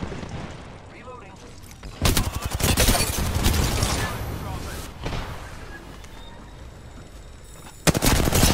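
Video-game gunfire bursts out in rapid volleys, a loud dense barrage from about two seconds in that tapers into scattered shots, then a sharp burst again near the end, with a player's voice talking over parts of it.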